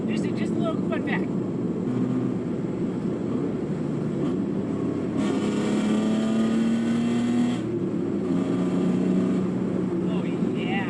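A BMW E36 Compact with a swapped 2.8 liter six-cylinder engine pulls at low RPM from third into fourth gear, a steady droning engine note under road noise with a gear change and rising pitch.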